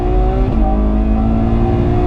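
Ferrari 812 Superfast front-engined V12 on the Fiorano track, holding a loud, steady high-revving tone close by with a brief pitch dip mid-way, no talk over it.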